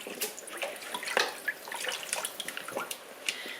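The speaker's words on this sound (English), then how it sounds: "I'm going to put them into a smaller colander to drain them" Water draining from cooled, cut potatoes in a small colander, a quiet patter of splashes and drips with uneven, trickling bursts and no talking.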